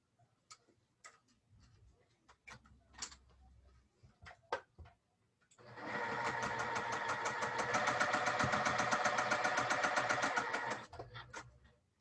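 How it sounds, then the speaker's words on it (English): A sewing machine stitches quilt fabric strips together, running in a steady fast mechanical whir for about five seconds after scattered clicks and handling taps, then stopping with a few more clicks. "Now I'm going to sew these strips together."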